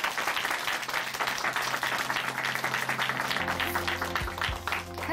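A church congregation in Chuncheon claps together in steady, dense applause that lasts throughout. It sounds fairly far off in a large hall, with a low sustained tone coming in toward the end.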